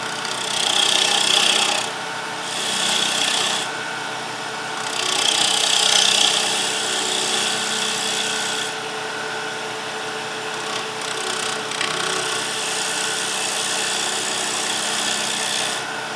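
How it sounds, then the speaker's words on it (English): A bowl gouge cuts the inside of a wooden dinner plate spinning on a lathe, a steady close scraping rasp that surges louder in a few bursts and eases between them, with no talking. "we'll do that real simply with a bowl gouge. We will work the inside first."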